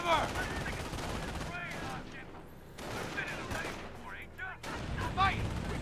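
Rifle and machine-gun fire rattles continuously in a Company of Heroes battle, with bursts of shots and whizzing effects, while game voices and battlefield chatter sound underneath.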